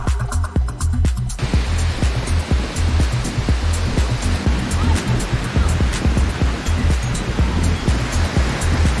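Ocean surf at a New Zealand beach near New Plymouth, a loud continuous rush of breaking waves with a rumbling low roar and some wind, heard up close and alone.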